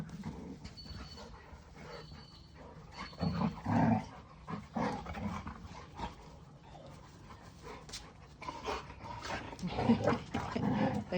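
Golden retrievers wrestling and play-growling, a rough, continuous rumble of snarls with louder bursts near the start and end, mixed with scuffling and paws, close and indoors while laundry is being done.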